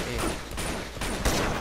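Pistol gunfire in Uncharted 2, a few loud, sharp shots spaced out at a slow rate over game noise, close and punchy.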